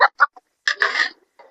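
Backyard terrace chickens cluck softly while eating green fodder, giving a few short close clucks followed by a longer throaty call and a faint final cluck.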